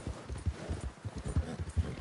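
Steady rhythmic clip-clop of horse hooves at a trotting pace in Red Dead Redemption 2, close and clear, with no talking.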